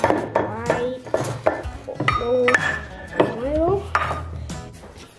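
Thick oat and egg mixture being stirred in a bowl, the spoon scraping and clinking against the sides in a steady rhythm, close up, while someone speaks over it.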